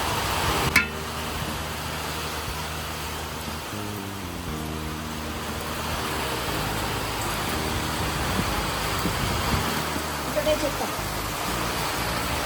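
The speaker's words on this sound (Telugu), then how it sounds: "వాయిస్ వినిపించట్లేదు ఫుల్ వర్షం వస్తుంది" Heavy rain falls as a dense, steady broadband wash during an outdoor biryani cook, with intermittent voices and a low hum underneath throughout.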